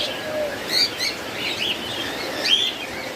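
A pair of rainbow lovebirds chirping at a bird seller's, short high tweets scattered over faint background noise, with no voices.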